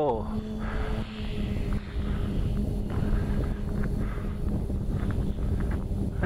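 A scratch-built STOL-style model plane's electric motor runs at full throttle, a steady loud buzzing drone mixed with wind rush across the microphone over a rough unprepared runway.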